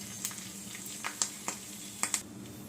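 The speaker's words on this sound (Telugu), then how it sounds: "ఇదిగోండి పోపు వేగింది కదా" Curry leaves, asafoetida, urad dal and dried red chillies tempering in hot oil for gongura chutney: a faint sizzle broken by a handful of sharp, scattered crackles and pops.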